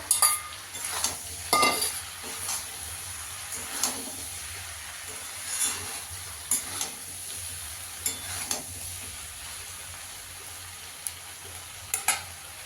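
Fried dried fish added to a pan of curry and stirred, with a steady sizzle under repeated scraping stirs of the spatula at irregular intervals, close and fairly loud.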